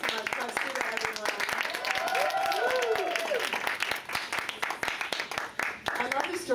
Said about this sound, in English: Claps to everyone.